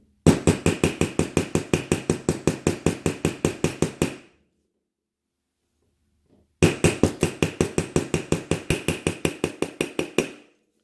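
Steady rapid hammering on a metal earring wire, two runs of about twenty evenly spaced sharp taps each, separated by a few seconds of silence, close and loud with no voices.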